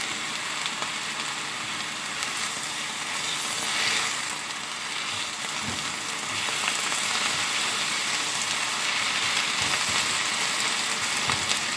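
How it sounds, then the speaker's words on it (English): Hearty winter greens sautéing in olive oil with garlic give a continuous fine crackling sizzle, fairly even and close, with a faint occasional clatter and no voices. "that, my friends, is how you saute greens, any kind of hearty winter green, in olive oil with garlic"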